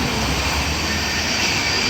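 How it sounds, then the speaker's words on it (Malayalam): A train rumbles past close by on the track beside Akamala Sree Dharma Sastha temple in Kerala, a continuous dense roar of wheels on track with a faint high squeal, no voices. "മുന്നിൽ തന്നെ ട്രെയിൻ പാതയാണ്, ട്രെയിൻ പോകുന്നു."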